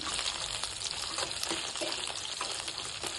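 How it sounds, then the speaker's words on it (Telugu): Dried red chillies frying over a low flame give a steady, close hiss of crackling oil with small pops scattered throughout and no voices. "ఎండు మిరకాయలు ఊరికే సిమ్లో పెట్టి ఫ్రై చేస్తున్నాను నేను"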